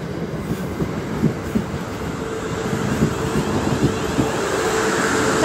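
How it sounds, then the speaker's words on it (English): A slow train rolling past the platform at Bedhampton station, a steady rumble of wheels and carriages with faint rhythmic clicks over the rails, gradually growing louder. "there goes the train."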